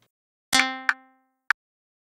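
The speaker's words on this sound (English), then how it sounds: "I have no clue what that sound is. It's kind of like a harp pluck." A synthetic pluck generated in Audacity rings out like a bright harp string and dies away quickly, with two further short sharp clicks after it.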